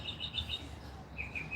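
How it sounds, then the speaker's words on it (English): A bluebird chirps outdoors in short high tweets, a quick run of four or five notes followed by a few more after a pause, fairly clear above a low rumbling background. "Yeah, it's got to be a bluebird."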